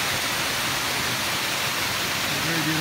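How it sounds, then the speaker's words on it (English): A waterfall along the Appalachian Trail rushes in a steady, fairly loud broadband wash, unbroken throughout with no talking. "A very beautiful waterfall."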